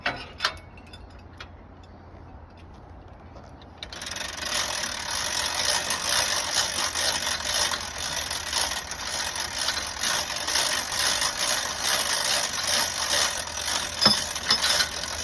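A Guilloturn log turner engine turning a log: quiet at first, then the motor kicks in and holds a steady, dense mechanical drone with light ticking and rattling for the rest of the stretch.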